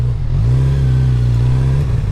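A motorcycle engine holding a steady, loud, rumbling drone at close range for a couple of seconds, with a slight dip near the end and no talking.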